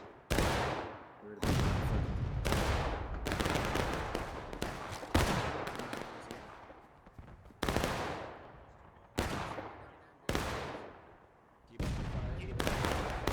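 Musket volleys in the Civil War shooter War of Rights on the Hagerstown Turnpike map: about eight loud, booming rounds of massed fire, each rolling off in a long echoing decay before the next volley.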